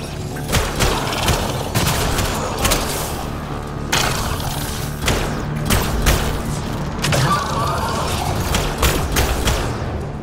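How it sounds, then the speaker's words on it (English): Gunfire in the sci-fi shooter Mass Effect Andromeda: repeated sharp bursts and booming shots crackle steadily at moderate distance, layered over a dense battle din with no talk. "Wait, was that gunfire coming from over there?"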